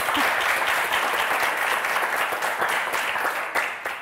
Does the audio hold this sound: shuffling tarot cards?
no